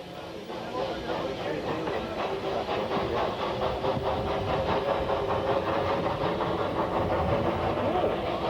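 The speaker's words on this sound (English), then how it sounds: "the shuttle train, with 2 baby Hunslets in charge, leaves with a full load of visitors for the yard" A narrow-gauge steam shuttle train hauled by two small Hunslet locomotives departs Minffordd with a full load on the Ffestiniog Railway, a loud steady rumble with rhythmic chuffing beats building close by, with a voice talking over it.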